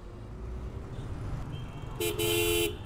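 Road traffic with cars passing and a horn honking twice in quick succession, a short toot then a longer blast, loud over steady engine rumble near a motorbike rider.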